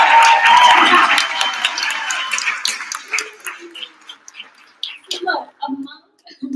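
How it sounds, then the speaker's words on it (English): Wedding guests at Aliya and Eric's ceremony give a loud burst of cheering and clapping that fades over several seconds into scattered voices and a few small sounds. "Bubby, who came all the way from California, so she gets her own cheer."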